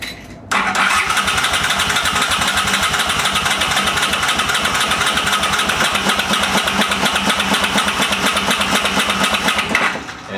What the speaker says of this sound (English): It's always fun though when they start